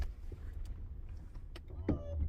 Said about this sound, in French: En fait, c'est un coffre électrique